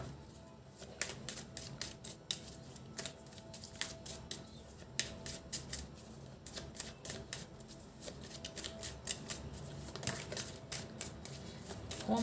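A large deck of tarot cards being shuffled by hand, a rapid run of crisp papery clicks and riffles in uneven bursts, close up and fairly quiet, with no voice.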